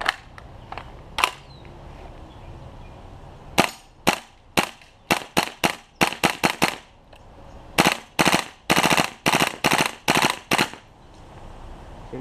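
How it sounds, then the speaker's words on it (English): Airsoft rifle fitted with a steel hop-up unit and aluminum nozzle, firing through a full magazine: a few scattered early shots, then rapid bursts of sharp, loud cracks in quick clusters, close by with no talking. "we are going to run a mag through this now and see how she performs with the aluminum nozzle"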